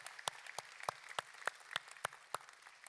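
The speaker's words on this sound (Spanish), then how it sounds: "definitivamente esto merece un aplauso" Church congregation applauding, heard as a sparse, regular run of about nine separate claps, fairly faint and without voices.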